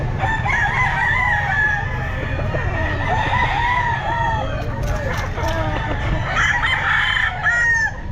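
Boston Roundhead roosters at a pet market, several loud overlapping crows and clucks from birds close by over a busy crowd, with someone talking.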